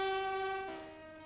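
A new commuter train for southern England on a trial run sounds a loud sustained horn blast that drops in pitch and fades slightly as the train passes.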